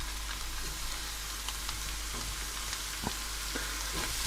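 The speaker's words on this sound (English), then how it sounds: "drop all these vegetables straight into this pan" Chopped vegetables and bacon sizzle and fry steadily in a hot pan for beef chili con carne, a continuous close crackle with occasional sharper pops and stirring scrapes, no talking.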